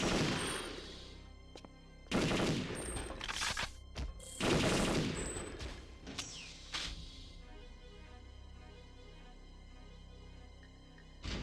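Rapid video game gunfire from the Perfect Dark Kai mod, loud bursts of automatic fire and single shots in several clusters, with a quieter stretch of lighter shots and electronic effects toward the end.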